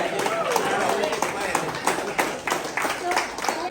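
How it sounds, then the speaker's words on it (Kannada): Audience clapping at a reunion event after a champion winner is announced, a lively burst of applause with people talking over it. "ಬರ್ಲಿ ಚಪ್ಪಾಳೆ."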